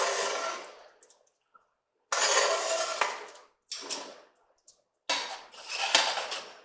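Pot roast being stirred in gravy in a pot makes several separate bursts of scraping and wet churning, each lasting about a second, close and fairly loud with silent gaps between.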